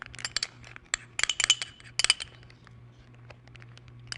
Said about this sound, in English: I'm going to get a clean spoon to get this in here